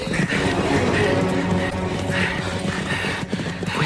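Horses galloping in a 1994 radio drama of The Three Musketeers, a dense, continuous rumble of hoofbeats running steadily throughout, with shouting voices over the action.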